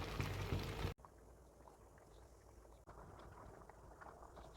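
Lentils and spinach simmer in a covered pot, giving a low, steady bubbling hiss with faint gurgles, briefly interrupted twice by a short dropout; no one speaks.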